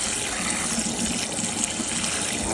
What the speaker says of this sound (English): So I'll probably turn on my faucet, and sometimes this works, but just continue to kind of rinse these around.